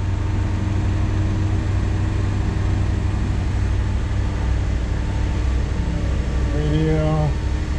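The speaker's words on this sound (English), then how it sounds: "Vehicle starts right up" A 1962 Chrysler Imperial Crown Convertible engine idles steadily and close after starting, with a continuous low rumble throughout and a brief rising tone near the end.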